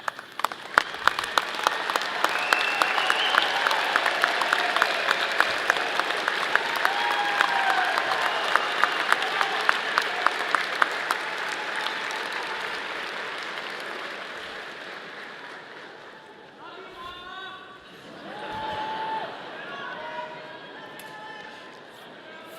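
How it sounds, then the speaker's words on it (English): A large commencement crowd rises for a standing ovation for engineering graduates, with sustained loud applause and cheers that swell and then taper off, followed by a speaker talking near the end. "all of you please stand, the graduates, to give them a standing ovation for everybody in the crowd"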